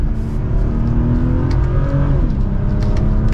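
A BMW M240i xDrive pulls hard in second gear in eco mode, its engine droning loud and steady as it climbs in pitch with no speech.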